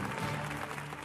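A rodeo crowd in Australia applauds Miss Rodeo Australia as she rides into the arena, a brief, even burst of clapping heard at a distance.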